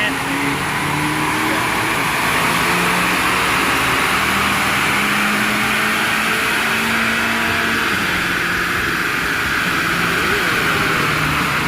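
A turbocharged car with an upgraded charge pipe and intercooler, running on a dyno with a loud, sustained engine drone that rises and falls in pitch, voices talking over it.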